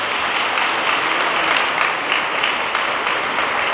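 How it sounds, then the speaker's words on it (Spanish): An audience applauds at a cultural support award ceremony, a loud, even, continuous wash of clapping that fills the whole stretch without pause. "Un fuerte aplauso para ellos."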